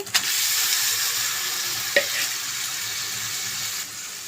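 Kandan kayalu vegetable pieces dropped into a hot pan and frying, a loud broad hiss right from the start with a brief clatter midway, steady and close.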